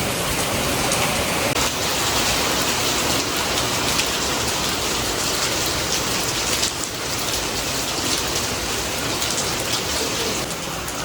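Heavy rain pours without a break, a loud dense hiss of drops drumming on surfaces that fills the whole stretch with no lull.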